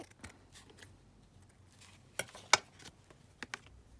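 Scissors snip a collage master board in a few sharp, close cuts, two standing out, among faint paper rustling in a quiet room.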